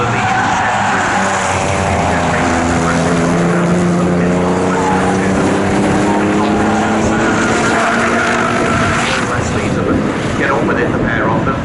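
Z Cars race at Snetterton circuit with loud, continuous engine drones rising and falling in pitch as they pass, under heavy wind buffeting on the microphone.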